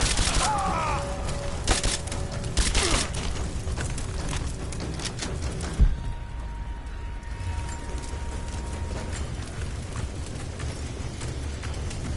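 Gunfire in the video game Rise of the Tomb Raider, a rapid burst of shots and impacts at the start that gives way to duller rumbling and ambient game noise.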